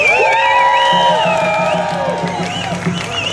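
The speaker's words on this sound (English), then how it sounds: "give yourselves a big hand" At an outdoor Freedom Convoy protest rally in Vancouver, a crowd cheers and whoops, with sustained shouting voices and some clapping, loud and continuous throughout.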